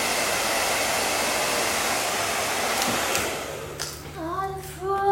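A hair dryer blows steadily on a wig in a steady, close whooshing hiss that fades at the end, where softer rustling and brief higher tones follow.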